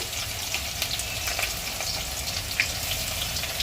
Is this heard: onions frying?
yes